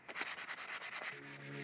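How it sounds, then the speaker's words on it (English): Sandpaper rubbed by hand across a wooden garden tool handle, several quick rhythmic back-and-forth scrubbing strokes, close and soft. "smooth the edge by sanding cross grain to it. Then sand with the grain to blend it with the surrounding wood."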